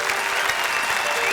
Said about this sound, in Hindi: ताली बजाओ जरा इनके लिए, ताली बजाओ।